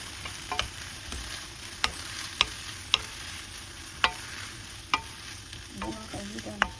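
String beans with soy sauce and chili fry in a pan with a steady sizzle, punctuated by sharp clicks and scrapes of a utensil stirring them at irregular intervals.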